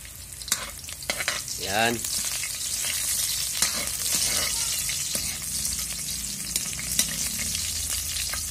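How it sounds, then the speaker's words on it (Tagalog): Garlic and onion frying in hot oil for pancit, a steady sizzle under clinks and scrapes of stirring, close by, with a brief spoken word. "pag kulo ng konti sa mantika, ay lalagyan natin siya ng mga sibuyas, bawang."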